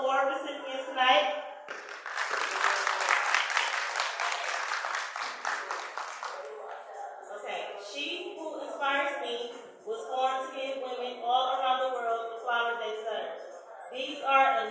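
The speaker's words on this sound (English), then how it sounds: "I need you guys to give a round of applause for all the award recipients tonight." Audience applause at an award ceremony for women honorees, a short burst of clapping that quickly gives way to someone speaking over faint background.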